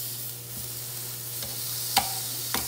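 Duck chops sizzle on an indoor smokeless grill, a steady close hiss broken by a few sharp clicks and taps.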